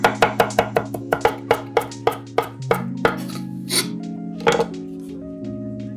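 Kitchen knife chopping fresh parsley on a cutting board, a quick run of crisp, evenly spaced chops slowing into sparser strokes, with steady background music underneath.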